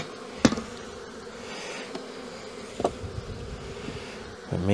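Honeybees buzzing steadily around an opened hive in early spring, a soft continuous hum with a few sharp knocks from a hive tool striking wood, ending in a louder rustle.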